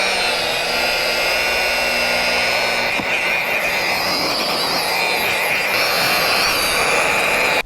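An inexpensive rotary polisher with a pad grinds rust off metal, a loud, steady motor whine running continuously and close up with no pauses.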